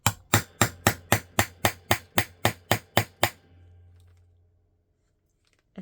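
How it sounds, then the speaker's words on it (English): Hammer blows on craft materials, about a dozen sharp evenly spaced strikes in quick rhythm, loud and close, stopping abruptly into near silence. "I'm going to start hammering. It's going to be loud, so you may want to mute right now."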